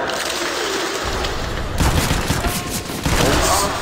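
A Desert Eagle fires during a Counter-Strike match, with loud, close gunshot bursts in dense game audio and a commentator talking over the action.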